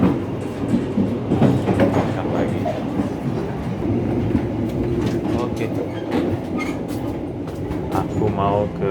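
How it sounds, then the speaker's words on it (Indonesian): Steady rumble and rattle of the Jayabaya economy-class train from Jakarta rolling along rails, with rhythmic clatter and occasional high squeaks; a person speaks briefly over it. "Dan sekarang naik kereta lagi."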